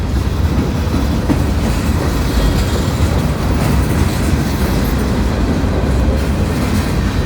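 A train pulled by three locomotives with a switcher engine rumbles steadily past a defect detector, a continuous loud roar of wheels and cars with faint rhythmic clatter throughout.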